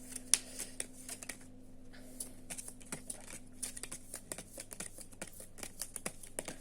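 Tarot cards riffled and drawn at close range, a quiet run of soft rapid flutters and taps in uneven bursts over a faint steady background hum, with no talking.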